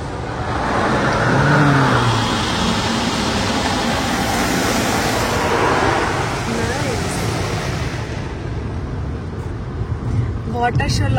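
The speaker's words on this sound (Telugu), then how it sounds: "కార్ వాష్ అయిపోయింది" Automatic car wash rinsing a car on a road trip through the USA, a steady loud wash of spraying water and machinery rumble filling the cabin, with people talking over it.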